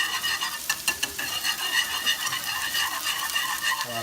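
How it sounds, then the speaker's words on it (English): Cajun creamed corn being whisked in a pan, a close, steady wet scraping and rattling of the whisk against the metal, continuous and fairly loud with a light simmer underneath. "I'm gonna take a whisk and take that whisk through there."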